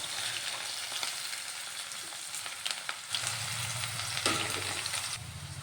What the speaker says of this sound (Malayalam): ഇനി നമുക്ക് അതേ എണ്ണയിലേക്ക് തന്നെ ഒരു കൈപ്പിടി ചുവന്നുള്ളി അരിഞ്ഞതും ഒരു സവോള കട്ട് ചെയ്തതും കൂടെ ചേർത്ത് കൊടുക്കാം